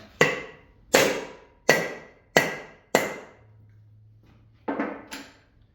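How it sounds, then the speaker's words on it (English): Five heavy hammer blows land in an even rhythm on a large electric motor with aluminum ends, each with a sharp clang that dies away, then a pause and two quicker strikes. "Got a little bit bigger hammer now."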